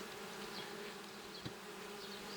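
Honeybees swarm around an opened hive frame of honey, giving a soft, steady buzz close by with a single brief tap partway through.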